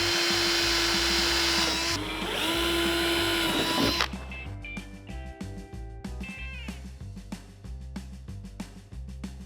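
A power drill whirs loudly and steadily at first, then gives way to shorter mechanical bursts and rattling, close and up front, during repair of a wrecked 2011 Mustang GT front bumper.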